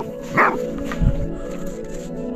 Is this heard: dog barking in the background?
yes